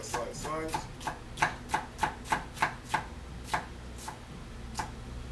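A knife taps sharply on a cutting board while fine dicing vegetables, a quick, even series of about a dozen chops, close and clear, with brief pauses near the end.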